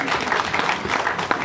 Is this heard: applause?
yes